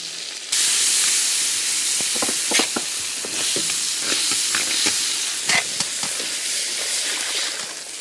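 Hot oil and Sichuan peppercorns sizzle loudly in a wok, a dense crackling hiss that bursts in suddenly and keeps spitting with sharp pops and a brief stir.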